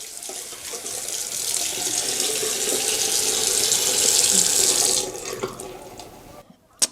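A matte black bathroom sink faucet runs cold water in a strong, steady gush for about five seconds, then the flow tapers off and stops with a brief knock.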